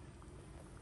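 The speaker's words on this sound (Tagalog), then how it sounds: "Kuluan lang natin ulit." Crab simmering in coconut milk with malunggay in a pot, a soft low bubbling and gurgling that is brief, faint and steady, with no talk.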